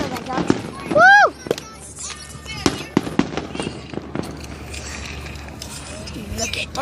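Fourth of July fireworks bursting overhead, a string of sharp cracks and booms with whistling rising shells, while excited voices cheer and talk nearby.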